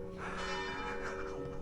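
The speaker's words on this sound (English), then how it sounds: "I had no idea that the bells would ring" Church bells ring out in the Abruzzo countryside near a detached house, a dense, sustained peal of overlapping tones filling the air steadily and fairly loud, with no talking.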